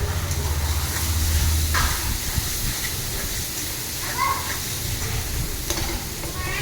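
Masala for a sour fish-roe curry fries in oil in a kadai, giving a continuous close hiss and sizzle with a low hum at the start and occasional stirring scrapes.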